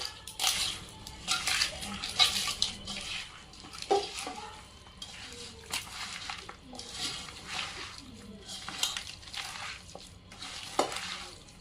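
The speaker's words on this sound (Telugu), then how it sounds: "ఇప్పుడు దీన్ని మంచిగా కలపాలి" Chicken biryani mixture stirred with curd and onion in a pot, giving repeated wet scraping and squelching strokes with light sizzling between them and a voice speaking at times.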